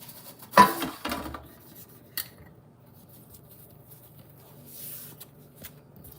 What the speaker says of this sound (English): I'm gonna grab my pan that I already oiled up.